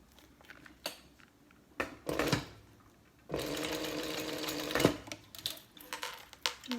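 A sewing machine stitches a thick vinyl wristlet strap in several short runs of close mechanical whirring, with a few clicks and pauses between bursts.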